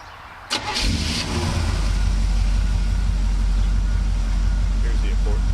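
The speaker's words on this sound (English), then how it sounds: "see if she starts, Zeppy." A 1976 Chevy Malibu with a freshly rebuilt Holley carburetor cranks briefly, catches and fires up, then settles into a steady, loud running rumble that holds to the end.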